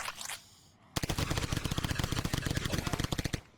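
Rapid automatic gunfire shooting zombies in the Zombie Raid survival game: a loud, steady burst of evenly spaced shots sets in after a brief earlier volley and a short pause.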